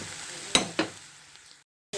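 Chicken fries with thyme in a pan, giving a soft sizzle broken by two sharp stirring clatters. The sound fades, goes briefly silent, then the sizzle returns.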